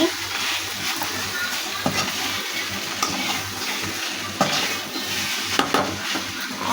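Tiger prawn fry being stirred and mixed in a pan, with a steady soft sizzle and scraping stirs throughout, fairly close, with occasional louder clacks of the spoon against the pan.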